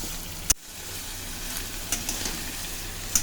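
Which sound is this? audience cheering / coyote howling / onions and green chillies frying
onions and green chillies frying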